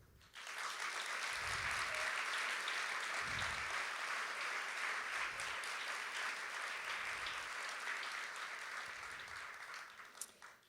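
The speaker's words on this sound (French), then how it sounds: "vous méritez des applaudissements" Parents receive warm applause at a 2023 university graduation ceremony, a broad sustained clapping from a large hall audience that rises quickly, holds for about ten seconds and then tapers off.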